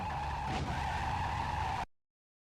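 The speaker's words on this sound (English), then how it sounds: "Listen to the engine sounds. They're not even trying" A car in the PS2 video game Driv3r drones with a steady engine tone under a continuous skidding tire squeal, loud and close, then cuts off abruptly into silence.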